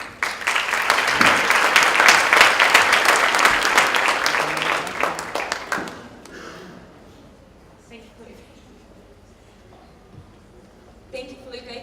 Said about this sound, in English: please join me with a great applause for Caroline and Pedro